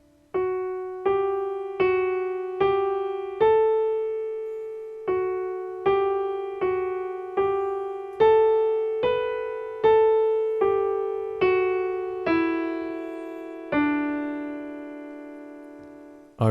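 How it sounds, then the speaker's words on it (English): Solo piano plays a melody as a slow string of clear, ringing single notes with a short pause partway through, each note decaying before the next. "So it will sound like this."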